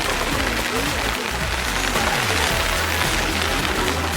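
Steady rain falls throughout an outdoor music video shoot, a dense continuous hiss of drops with low rumbling underneath, close and loud.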